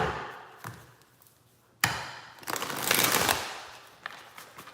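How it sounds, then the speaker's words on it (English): A tarot card deck is shuffled by hand in bursts, papery riffles and flutters with a sharp snap partway through, close and fairly loud with no talking. "I'm just shuffling so much because I haven't used this deck in so long."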